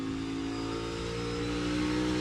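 A NASCAR Cup car's engine roars steadily at high revs on a qualifying lap, a continuous loud drone holding pitch with a slight rise toward the end.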